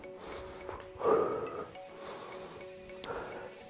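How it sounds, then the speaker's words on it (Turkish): Deep breaths drawn in through the nose and let out during a rest pause in an exercise session, close and fairly quiet, with a sharp snorting inhale followed by slower airy exhales. "Derin nefes al ver."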